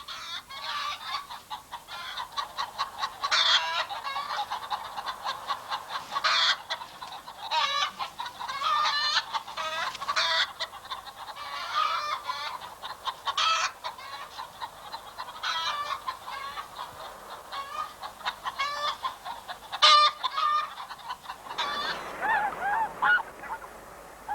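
A flock of poultry clucks and honks continuously on a farm, busy overlapping calls from geese and chickens nearby, with no talking.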